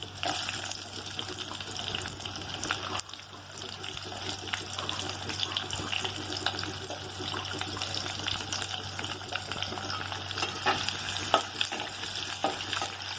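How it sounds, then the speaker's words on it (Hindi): Chopped onions frying with whole spices in a clay pot for Odia-style mutton give a soft, continuous sizzle with occasional stirring scrapes and watery crackle. The sound stays moderately quiet and steady, with no speech. "और प्याज को हम गोल्डन कलर होने तक ऐसे फ्राई करते रहेंगे।"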